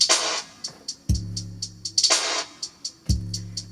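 A steady electronic beat of punchy low kicks, bright snares and ticking hats; any keys layered on top are hard to pick out from the drums.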